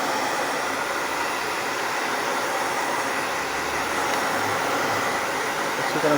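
Hair dryer blowing steadily on a computer motherboard during a home repair, a loud, constant broadband whoosh of air held at an even level for the whole stretch with no talk.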